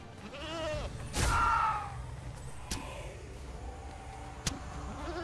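Goat in the video game Dragon's Dogma 2 gives one wavering bleat up close, followed by a few sharp thuds and quieter background sounds.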